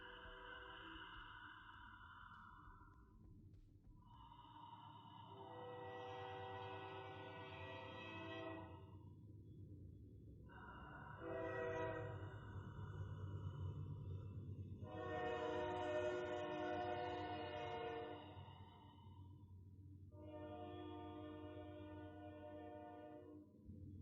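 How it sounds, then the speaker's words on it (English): A distant train passes outside during a quiet yoga session, its horn sounding several long blasts over a low, steady rail rumble. "If you can hear that train in the background here,"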